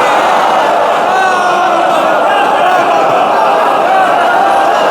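A large congregation at a religious majlis chants slogans in unison, a loud, dense roar of many voices that holds steady and unbroken for the whole stretch.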